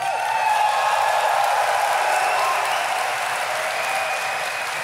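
A large crowd at Gamescom 2023 applauds in a steady, dense roar of clapping that holds at full loudness throughout, close and enveloping, with no voices standing out.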